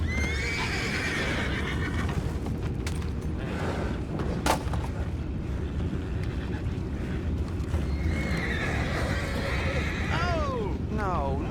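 Horses in Red Dead Redemption 2 neigh and whinny over a dense, steady game ambience with low rumbling, the clearest whinny rising near the end.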